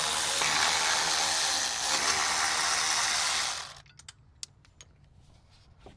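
A ratchet works on small plastic 10 mm nuts during a B58 engine swap into a BMW F31, giving a loud, dense whirring rattle for nearly four seconds before it stops and a few faint clicks follow.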